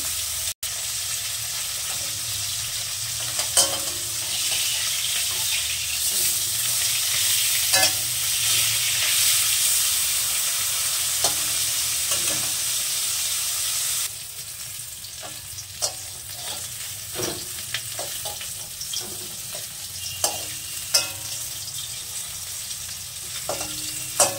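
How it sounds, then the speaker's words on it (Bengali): Bhola fish fries in hot oil over a lowered gas flame, giving a steady close sizzle with scattered spits and pops and occasional stirring clicks, no voices. "মাছ ছেড়ে দিলাম। আমি সুন্দর করে মাছটা ভেজে নেব।"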